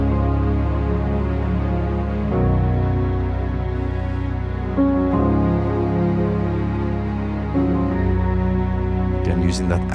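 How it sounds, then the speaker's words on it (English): Pre-chorus of a song plays with lush strings, Triton synth and Mellotron layers, holding full sustained chords that shift every few seconds at a steady, loud level. "we've got some strings going on, some Triton and some Mellotron"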